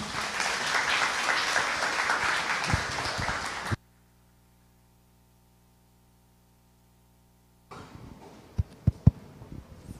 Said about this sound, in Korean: 박상준 대표님 큰 박수로 맞아주시기 바랍니다.